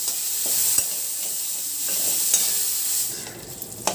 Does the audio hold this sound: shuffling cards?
no